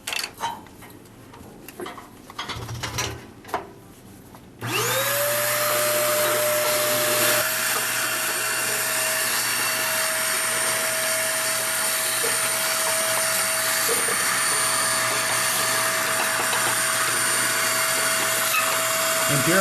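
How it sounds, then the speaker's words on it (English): Faint clicks and shuffling give way to a vacuum cleaner switching on to clean a HearthStone pellet stove, running with a loud, steady whine and hiss. "This can be best done with a vacuum cleaner."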